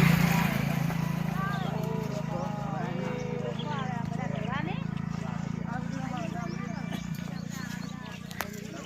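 Hooves of a group of horses clip-clop steadily as they move together through a continuous low rumble, with people talking and calling out throughout.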